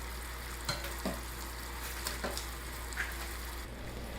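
Dried osmanthus flowers are stirred into melted rock sugar syrup in a pot, giving a soft continuous bubbling sizzle with a few light scraping strokes, close and steady, with no voices.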